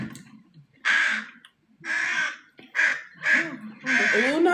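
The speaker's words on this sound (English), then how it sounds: "Ooh, not the crow landing." A crow gives a series of harsh, loud caws, about five separated calls with brief pauses between them, close by with no other sound.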